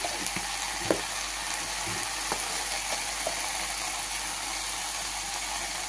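Shanti shaak greens fry in a pan after salt and turmeric go in, giving a steady broadband sizzle with occasional light stirring clicks and scrapes throughout, close and continuous with no voices.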